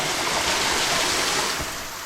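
Water rushes and tumbles in a jungle stream in Sri Lanka, falling over rocks in a loud, close, steady broadband roar with no voices.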